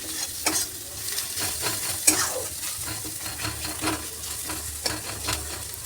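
Ground coriander and spices are stirred in hot oil in a pan, with a continuous close sizzle and repeated scraping and clinking strokes of a spoon against the metal, no talking.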